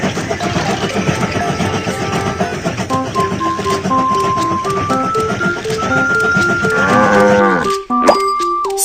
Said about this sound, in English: Some sheep are on the train track.